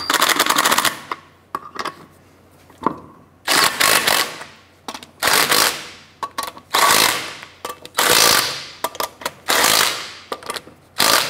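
Rapid ratcheting bursts from a tool tightening lug nuts on a Chevrolet Impala wheel repeat in loud, buzzing runs separated by short pauses.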